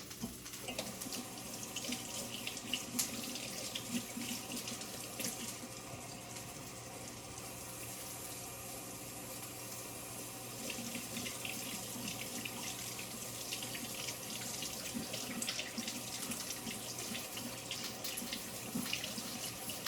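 Water runs from a kitchen tap into a sink while food is rinsed, a steady broadband rush that stays even and continuous throughout.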